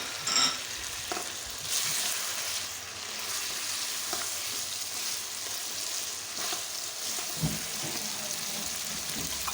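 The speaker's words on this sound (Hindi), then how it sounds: "ज़ीरा डाल रही हूँ साबुत" Whole cumin seeds sizzle in hot oil in a pan with fried potatoes, a steady bright frying hiss with occasional louder crackles and stirring clinks, close and continuous with no talking.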